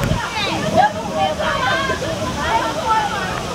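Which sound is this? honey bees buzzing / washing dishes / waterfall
waterfall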